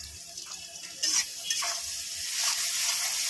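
Sliced onions frying in hot oil with salt, sugar and turmeric added, a steady close sizzle with stirring scrapes and brief spatula clinks, swelling louder toward the end, no voices.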